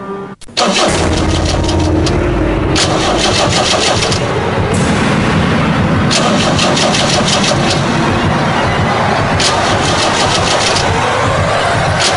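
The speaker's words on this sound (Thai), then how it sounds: "ก็ได้ยินเสียงสตาร์ทรถ ตอนนี้สตาร์ทอยู่หลายที" A car parked in front of a house has its engine cranked repeatedly, with loud, close churning starter bursts over a continuous engine rumble that carries on throughout without any voices.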